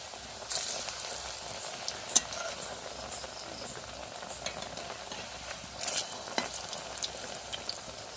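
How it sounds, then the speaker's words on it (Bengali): Snacks deep-frying in hot oil for children's tiffin, a steady close bubbling crackle with a few sharper pops and brief louder bursts, no talking. "এই যে দেখুন আমার সবগুলো পরপর ভাজা হয়ে যাচ্ছে"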